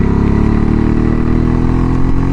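A motorcycle ridden at a steady pace, its engine droning loud and close with a continuous rough hum and slight wind buffeting, no voices over it.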